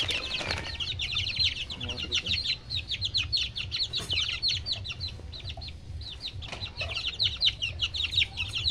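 One-month-old Gilmore hatch gamefowl chicks cluck and peep steadily while being fed, a dense, close chorus of short chirps with a couple of soft wing flutters and muffled thumps.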